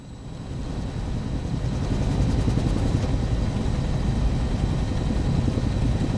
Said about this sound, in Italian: Siamo a bordo dell'elicottero dell'esercito in compagnia della Brigata Sassari